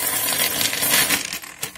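Small change, a handful of coins, jingles and clinks as it is dropped and handled at a pharmacy counter, a brief close rattle.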